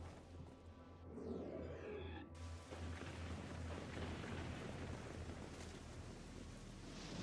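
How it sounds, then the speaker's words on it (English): In Devil May Cry 4, steady rain hisses densely alongside a low rumbling of thunder, with a brief swooping whoosh early on, continuous and moderately loud. "Why is it suddenly raining indoors? That's so weird. Oh, okay, now it's raining everywhere."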